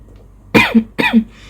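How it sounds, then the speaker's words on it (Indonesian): Two sharp coughs, close and loud, about half a second apart, each trailing into a short rasp; quiet otherwise. "di tengah-tengah aku menjelaskan batuknya keluar karena memang kayaknya aku kena batuk lagi"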